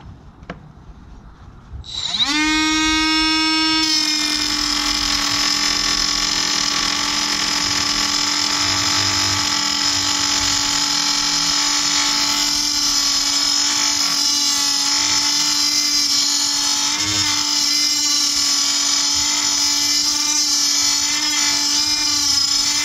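Milwaukee M12 Fuel 3-inch cordless cut-off tool fitted with an Avanti Pro wheel spins up with a rising whine, then holds a loud, steady high-pitched scream while cutting for about twenty seconds, with no voices.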